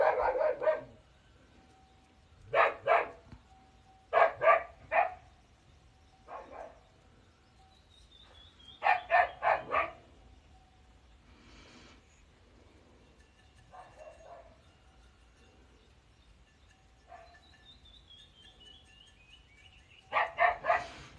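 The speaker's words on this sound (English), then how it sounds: "That's my loud ass dog." A loud indoor house dog barks in short bursts of two to four sharp barks. Quiet gaps separate the bursts, and a final volley comes at the end.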